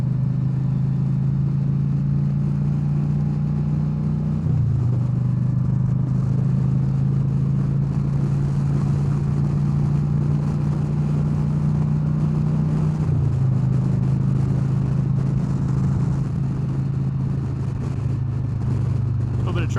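A 2023 Harley-Davidson CVO Street Glide motorcycle engine drones steadily while riding, its deep, loud rumble shifting pitch slightly at gear changes, with wind noise throughout and a voice talking over it.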